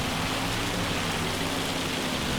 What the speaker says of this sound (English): we are having some rain